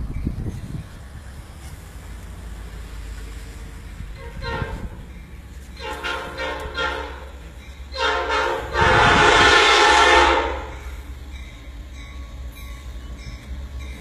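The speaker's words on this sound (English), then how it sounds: "we got a train coming out of the tunnel here." A train emerging from a tunnel at Gallitzin, Pennsylvania rumbles close by, its horn sounding in a loud sustained blast over the rolling noise, with brief talk early on.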